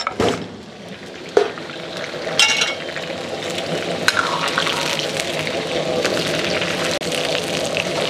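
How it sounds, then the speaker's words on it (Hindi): Chicken pieces and green chillies fry in a pan with a steady close sizzle, broken by a few sharp clinks and scrapes of a utensil against the pan early on. "2 मिनट के लिए मज़ीद फ्राई करेंगे"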